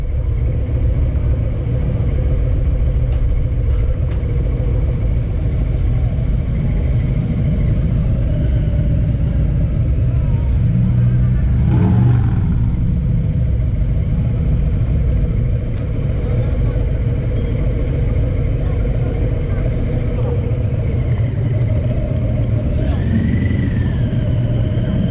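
A Harley motorcycle engine rumbles low and steady, close by, while being loaded onto a RoRo ferry. The drone continues throughout, with voices talking and a few clanks over it.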